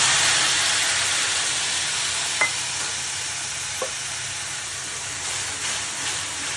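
Mustard paste of ground mustard, green chili paste, turmeric, salt and chili powder poured into hot oil left from frying hilsa fish, giving a steady broadband sizzle with a couple of brief clicks, close and continuous.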